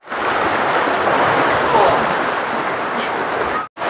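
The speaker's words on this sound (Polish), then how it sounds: "Że to jest Ocean, tak." Ocean surf on the Scottish coast: a steady, loud, broadband wash of breaking waves that runs without a pause for several seconds and ends abruptly.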